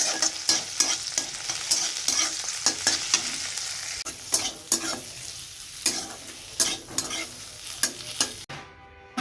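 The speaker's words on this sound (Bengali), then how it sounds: "কড়াইয়ে সামান্য তেল দিয়ে জিরে ফোড়ন দিয়ে পেঁয়াজ টমেটো একটু হালকা করে ভেজে নিচ্ছি" Onion and tomato fry in a little oil with cumin seeds in a wok, sizzling steadily while a spatula stirs and scrapes the pan in repeated clicks and taps, close and alone.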